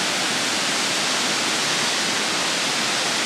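Tall waterfall in northern New South Wales, a steady broadband roar of falling water that stays constant and fairly loud throughout, with no voices.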